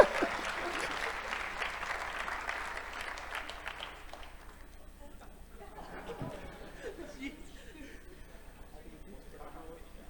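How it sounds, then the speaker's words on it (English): Audience applause at a conference closing keynote, a burst of clapping over the first few seconds that fades to scattered claps and murmuring chatter. "let's give a big round of applause for our first ever recipients"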